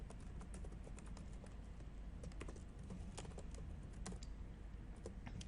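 Rapid clicking keystrokes on a computer keyboard as an email address is entered into a login form, close and steady with no pauses or talk.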